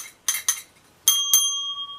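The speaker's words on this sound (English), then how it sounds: "that was the Hotel Tower of Terror bell" A Tower of Terror souvenir bell from Disneyland Paris struck four times close by, two quick dull taps followed by two bright chimes whose clear tone lingers and rings out.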